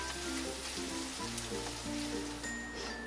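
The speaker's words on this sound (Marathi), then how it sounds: "कांदा बघा चांगला भाजून घ्यायचा।" Finely chopped onion with a pinch of asafoetida fries in a pan for a Maharashtrian dry ghevda bean bhaji, giving a steady close sizzle and crackle with scattered pops and no talking.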